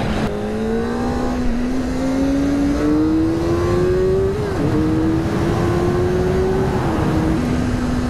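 A 2024 Kawasaki Ninja ZX-4RR sport motorcycle accelerates hard through the gears, its high-revving four-cylinder engine climbing steadily in pitch with a brief dip at each shift, loud and close with wind noise.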